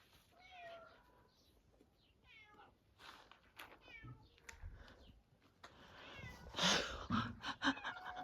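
Several cats meow repeatedly around a village home, some calls faint and others louder and closer, scattered over a quiet background with rustling and movement noises.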